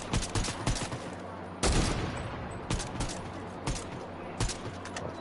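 Gunfire in the Fortnite video game: repeated sharp shots in an irregular rhythm over about five seconds, each crack punching out clearly above a steady game background, with no talk.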